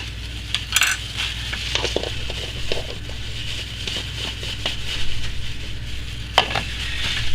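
A spoon stirs chai tea soap batter mixed with gold mica, giving soft scraping swishes with occasional light clinks against the container. The sound is steady and close, with no talking.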